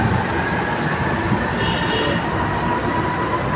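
A continuous loud rumble of an elevated MRT train passing nearby, with steady rolling wheel noise and a faint high squeal.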